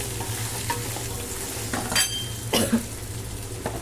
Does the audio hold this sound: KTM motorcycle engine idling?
no